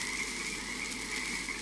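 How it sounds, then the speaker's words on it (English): A dense chorus of many frogs croaks at a campsite, a continuous shrill trilling wall of sound at moderate distance with no voices over it. "Just a lot of frogs and stuff, so I can't really hear"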